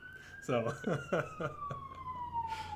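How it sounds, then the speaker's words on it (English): An emergency siren outside on its way to a building fire, heard as one steady, slowly falling wail from a distance, continuous beneath someone talking in the room. "If you can hear that, there's a siren outside."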